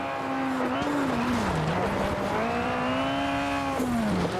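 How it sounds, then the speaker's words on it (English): A race car in the Automobilista 2 sim racing game, its engine note holding a steady drone that rises and dips with braking and turning, loud and continuous, with tyre sounds underneath. "you can hear the gravel in the engine"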